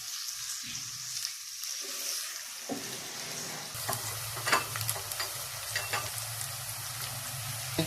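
Onions fry in a cup of ghee with a soft steady sizzle that grows fuller partway through, broken by light scraping and tapping of a stirring spoon, close and fairly quiet with no talking.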